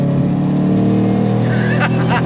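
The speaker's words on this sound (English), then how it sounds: "Love the sound of that freaking engine." A Roush P-51A Mustang V8 engine rumbles loudly up close, holding a throaty steady growl with a slight rise near the end, while a voice speaks briefly over it.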